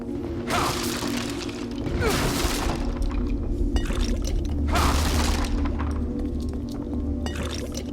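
An explosion in the horror video game The Evil Within, set off by shooting a trap, comes as several loud shattering, crashing bursts over a dense, continuous rumbling game soundscape.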